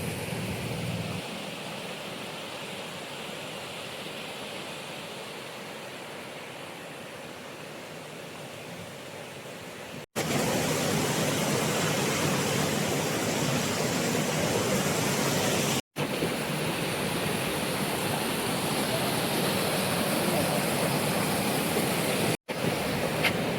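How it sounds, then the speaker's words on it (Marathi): A hidden waterfall in the Sahyadri hills at Karjat roars as a loud, steady broadband wash of falling water, close and constant, with no voices. "किती सुंदर धबधबा आहे बघू शकता."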